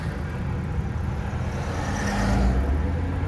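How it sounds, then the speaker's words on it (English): An official pace car cruises by on Coastal Highway in Ocean City, Maryland, during a summer car cruise event, a low engine rumble swelling as it passes nearby amid road noise. "looks like that was an official pace car"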